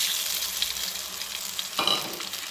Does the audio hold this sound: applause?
no